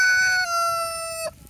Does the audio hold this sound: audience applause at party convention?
no